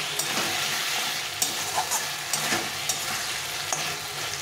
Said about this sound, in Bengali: প্রথমে আলুটা দিয়ে একটু কষিয়ে নেব